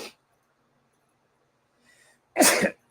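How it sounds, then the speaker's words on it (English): A single loud, sharp sneeze near the end, preceded by a brief faint intake of breath in an otherwise quiet space. "If I'm sneezing like that, some bull coming."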